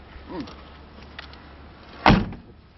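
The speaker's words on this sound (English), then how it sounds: "Door closes like new." The door of a 1951 Ford two-door hardtop shuts with a single solid thud, heard nearby over faint outdoor background and soft voices.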